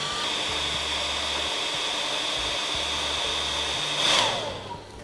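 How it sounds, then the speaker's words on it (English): A heat gun or hair dryer blows a steady, loud hiss of hot air to warm panel surfaces for bonding. The whoosh surges briefly near the end as the nozzle moves. "take a heat gun or hairdryer and warm both surfaces until they are warm to the touch"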